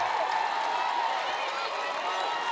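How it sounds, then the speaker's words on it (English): Wake Forest home crowd at a women's basketball game against Clemson, with a steady roar of noisy cheering and a commentator talking over it. "And the Wake Forest crowd getting into it."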